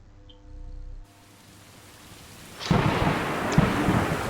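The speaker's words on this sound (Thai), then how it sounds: "อากาศฝนตกหนักมากเลย" Heavy rain and thunder from the video game Stray. A quiet stretch gives way to a loud, steady downpour, with deep rolling thunder rumbling underneath and a sharper crack near the end.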